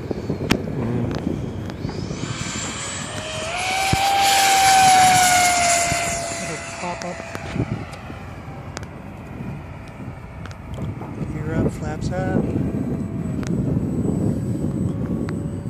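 Freewing F-104 Starfighter model jet on its fourth flight in breezy weather, a whining ducted-fan roar that swells as it passes overhead and then fades to a distant hum, with people talking nearby.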